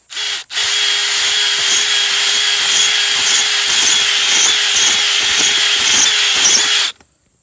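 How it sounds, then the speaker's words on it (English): A power drill whines steadily and loudly for about six seconds, grinding as it bores about 15 inches into soil, then cuts off abruptly. "Just drilled down about 15 inches or so"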